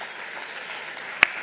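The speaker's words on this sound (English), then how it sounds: "I think that deserves another round of applause," An audience at an inter-college entrepreneurship event applauds, a steady soft wash of clapping from a distance with one sharp, louder clap near the end.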